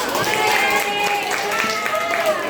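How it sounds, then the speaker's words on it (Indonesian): Students in an open-class lesson give a classmate a round of applause, a fairly loud, continuous burst of many hands clapping, with children's voices chattering over it. "Kasih tepuk tangan dulu buat Ratu"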